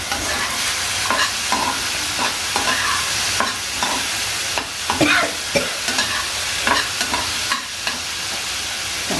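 Onion, capsicum and chopped dried chilli stir-fried in a pan for corn manchurian: a steady sizzle with repeated spatula scrapes and stirring strokes, close and fairly loud, without talk.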